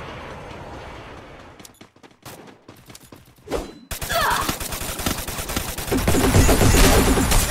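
Dense bursts of gunfire from the Free Fire battle royale game, scattered shots early then sustained, loud rapid fire that builds toward the end, with no talk over it.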